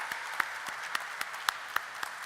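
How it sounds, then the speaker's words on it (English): Sparse, faint clapping at a company stock listing ceremony, with a few distinct claps spaced irregularly over a couple of seconds rather than a full crowd ovation. "Let the claps be on."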